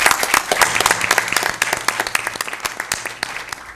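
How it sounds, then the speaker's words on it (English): Audience members at a school board meeting clap for an honored student, a brisk burst of applause with distinct individual claps, loud at first and thinning out toward the end. "Let's give her a round of applause."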